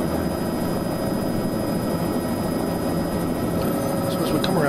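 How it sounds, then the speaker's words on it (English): Helicopter coming in to land at a remote Arctic field camp on Devon Island, its steady, loud rotor and engine roar filling the scene with broadband noise and no clear speech. "the helicopter comes in for a landing"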